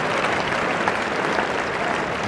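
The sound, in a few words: cricket crowd applauding Alan Border's half century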